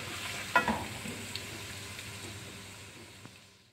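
Garlic and ginger frying in hot oil until golden brown. A soft, even sizzle with a brief clatter near the start as they go into the pan, fading slightly toward the end, with no voices.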